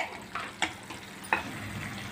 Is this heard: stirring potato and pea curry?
yes